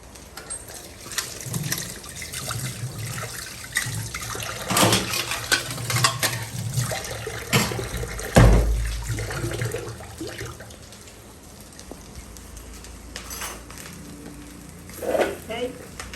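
Food being washed under a running kitchen tap in a village home, with steady splashing water and occasional clinks of pots and dishes, while people talk intermittently.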